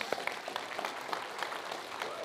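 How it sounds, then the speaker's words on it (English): A church congregation giving a round of applause for bike riders at a morning service, a moderate, fairly quiet patter of clapping with distinct individual claps and some voices underneath. "Give them a hand clap this morning"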